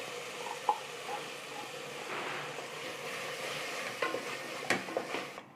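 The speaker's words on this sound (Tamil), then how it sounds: "மசாலா பேஸ்ட்டு கலந்து நல்லா வதக்கிக்க போகிறோம்." Ground masala paste of mint, coriander, ginger and garlic being stirred and sautéed in a pan for vegetable pulao, a faint steady sizzle with soft scraping of the spoon and a few light clinks.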